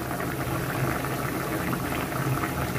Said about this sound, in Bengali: এখন একটু জিরা ফাটি দিয়ে দেব